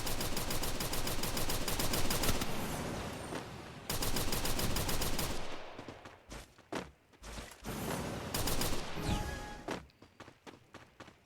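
Rapid gunfire from a Winchester gun in a Counter-Strike-style shooter, dense bursts of shots for several seconds, then sparser single shots with gaps and footsteps between them, loud and close.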